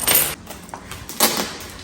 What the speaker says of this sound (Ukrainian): це твоя пара ключків